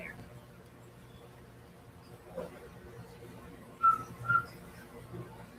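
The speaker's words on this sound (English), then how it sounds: "you can go over there and whistle" Two short, clear whistle chirps from a person indoors, heard close together near the end over a quiet room with faint background noise.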